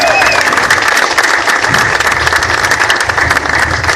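Rally crowd applauding and cheering loudly and continuously at a community justice rally, dense clapping throughout with voices mixed in.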